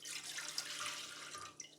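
Water streams steadily into a bread maker pan, one cup's worth for focaccia dough, a continuous close splashing pour with no talking.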